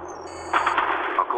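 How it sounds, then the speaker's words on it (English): Gunfire in the Quantum of Solace video game at the Bregenz opera level, a rapid burst of shots breaking in midway under a steady tonal hum and lingering to the end. "That sounded like gunfire."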